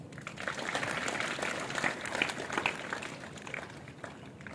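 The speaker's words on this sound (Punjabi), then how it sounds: "ਤੁਸੀਂ ਤਾੜੀ ਮਾਰ ਰਹੇ ਸੀ" A room full of people claps steadily for several seconds, the patter of hands fairly close and even.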